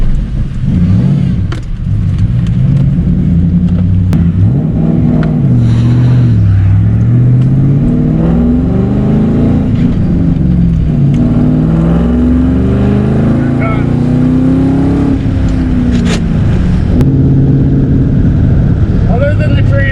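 A 2008 Ford Crown Victoria with a 5-speed manual transmission, warped flywheel and worn brakes drives along, its engine droning steadily with shifting pitch as it accelerates and settles, loud and close throughout with talking over it.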